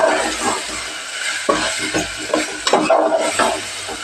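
Vegetables for masale bhat being sautéed in a pan, with a continuous sizzle broken by repeated scraping strokes of a spoon stirring, close and fairly loud.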